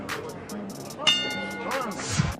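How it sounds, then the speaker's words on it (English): A ring bell clangs to end a round at a professional boxing match in America, ringing out amid crowd noise and voices talking. "Stop at the bell, guys. Stop at the bell."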